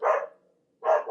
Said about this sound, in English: The joys of having a very barky little dog.